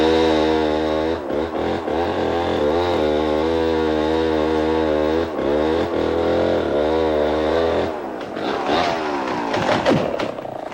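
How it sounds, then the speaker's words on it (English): Chainsaw felling trees in the Amazon rainforest, a loud sustained buzzing engine whine that holds steady for several seconds, briefly dips and revs, then gives way to rough cutting noise near the end. "The chainsaw. It gives a single man the power to fell the mightiest jungle patriarch."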